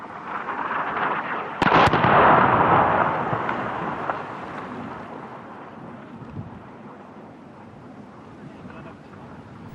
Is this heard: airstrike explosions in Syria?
yes